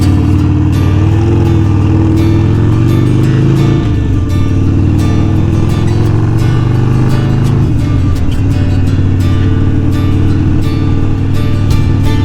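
A Harley-Davidson Sportster 48 motorcycle rides along on the way to the Holme Moss summit, its engine drone and rumble steady and loud throughout with rising and falling revs, no talking.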